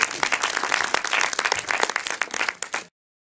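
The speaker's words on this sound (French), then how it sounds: "il est là, vous pouvez l'applaudir" An audience at a public talk applauds film editor Bernard Sasia, a lively burst of many hands clapping with distinct sharp claps, swelling and dipping slightly before tapering off abruptly into silence.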